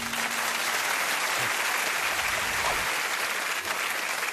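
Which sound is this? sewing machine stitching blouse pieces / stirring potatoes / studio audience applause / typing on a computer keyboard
studio audience applause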